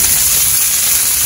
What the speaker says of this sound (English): See, it's sizzling and crackling when you put them on.